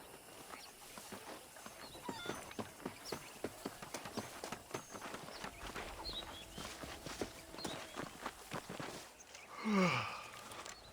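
Horse hooves clip-clop at a walking pace in a Red Dead Redemption scene, a steady rhythmic series of close, distinct hoof strikes with no voices, ending with a brief snort or whinny near the end.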